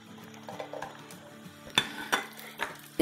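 Five large garlic cloves and three green chilies sautéing in oil in a pan, with a soft sizzle under repeated stirring and a few sharp clinks of a utensil against the pan.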